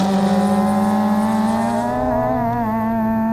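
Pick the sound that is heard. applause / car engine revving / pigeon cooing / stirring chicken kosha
car engine revving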